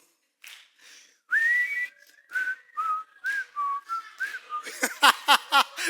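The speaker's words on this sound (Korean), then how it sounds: "휘파람도 다 같이요." Group whistling of a melody in a church service, with sustained pitched notes followed by a run of quick rising whistled phrases, clear and fairly close.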